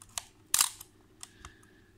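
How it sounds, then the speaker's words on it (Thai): A film camera's mechanical shutter fires at several speeds: a handful of sharp clicks and snaps spaced unevenly, one louder clack standing out, heard close and dry against a quiet room with no talking. "นี่ชัตเตอร์บีปึ๊บยังทำงานปกติอยู่นี่ชัตเตอร์ต่ำๆนะครับ"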